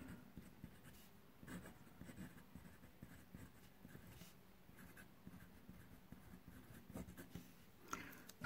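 A broad-nibbed fountain pen with Noodler's Apache Sunset ink scratches softly across paper, a faint, close, continuous writing sound with small irregular strokes.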